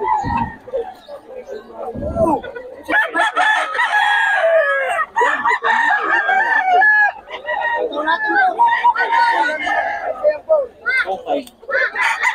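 Several roosters crowing and hens clucking at a poultry market in Bocaue, loud and close, with overlapping crows and calls, while people talk in the background.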